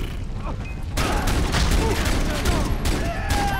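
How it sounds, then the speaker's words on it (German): Far Cry 3 gunfire: a burst of rapid shots rings out close and loud over gritty mechanical clatter, continuing in a dense volley after a quieter opening. "Ich schieße überall hin, nur nicht da, wo ich hinschießen muss."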